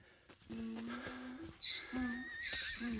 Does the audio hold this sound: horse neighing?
yes